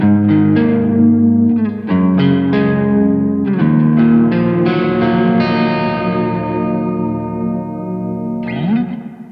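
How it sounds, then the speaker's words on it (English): Electric guitar played through a Tone City reverb pedal with an ethereal, almost modulated wash: a series of picked notes and chords ring out with long, shimmering decay tails, ending in a brief strum. "it's a very ethereal reverb, almost modulated compared to like the spring you get in the Tiny Spring"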